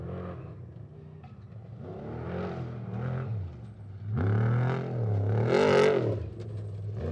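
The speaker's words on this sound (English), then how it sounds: "As we listen, we can hear Justin Lofton racing through the desert. Everything is bright, everything is strong, the motor is humming" A Jimco Trick Truck races through the desert, its engine revving hard and surging through repeated rises and drops in pitch, loud and close with rattling clatter, no voices.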